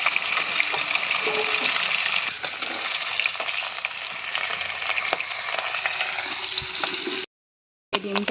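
Rohu fish frying in oil in a pan for a home lunch: a dense, continuous sizzle with faint clinks and stirring, briefly cutting out near the end before resuming.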